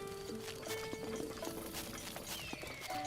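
A horse's hooves clip-clop at a stable in the Breath of the Wild video game, a rhythmic patter of light hoofbeats over a steady ambient background, fairly close and with no clear speech.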